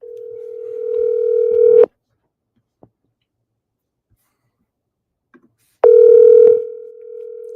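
Telephone ring tone heard while calling a homeowner: two long steady electronic rings separated by about four seconds of silence, clear and close on the line.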